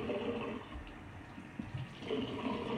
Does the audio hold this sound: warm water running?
yes